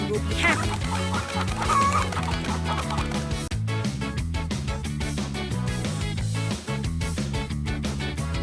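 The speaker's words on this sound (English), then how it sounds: "Find all the chickens and bring them back to the coop." Cartoonish chickens cluck repeatedly over bouncy background music in a PAW Patrol video game, with a voice speaking at times.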